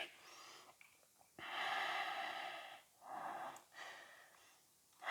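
Slow, audible Ujjayi breaths during an ashtanga yoga flow, long hissing inhales and exhales with a throaty rasp, close and alone, separated by brief quiet gaps.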